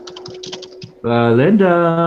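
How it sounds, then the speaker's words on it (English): Quick, light keyboard typing clicks up close during a live online chat, then a voice cuts in loudly over it. "Mute yourself when you're typing."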